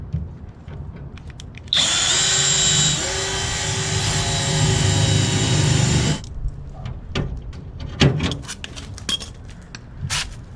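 A power drill whines steadily for several seconds while clecos are sunk into a patch panel on a Chevelle, followed by scattered metallic clicks and handling noises nearby.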